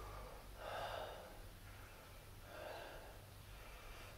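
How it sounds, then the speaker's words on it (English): Heavy mouth breathing during a bioenergetics arch posture exercise, with two slow, breathy exhalations at a moderate level over a steady low background hum. "Breathing through the mouth,"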